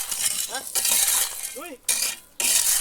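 Cement and stones churned together by hand for a concrete floor, a gritty scraping rasp running almost continuously, with two brief pauses and a few faint squeaky tones mixed in.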